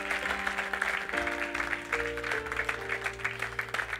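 Church audience applauding to acclaim the Lord, steady dense clapping throughout over sustained organ-like keyboard chords.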